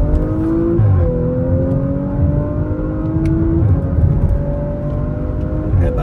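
Audi RS4 R ABT accelerating hard on a country road, a loud, close engine drone rising in pitch through the gears with brief dips at the shifts and a steady rumble beneath, no talking.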